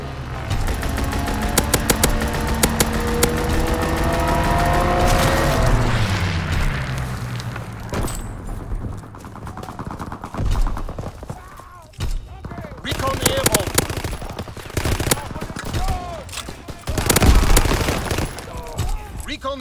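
Aircraft strafing-run gunfire in Call of Duty: WWII, a roaring engine pass giving way to rapid bursts of gunfire and booming explosions, loud and dense, with a game announcer's voice heard amid the battle.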